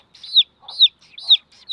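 High, rising peeps from baby chicks, four in a steady rhythm, close and clear with faint soft clucks between.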